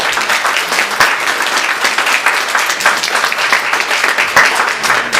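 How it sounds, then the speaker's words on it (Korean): A church congregation claps steadily to welcome visiting guests during a Sunday worship service, a dense, sustained round of applause filling the room for several seconds with no voices over it. "박수로 좀 환영해 주시면 감사하겠습니다"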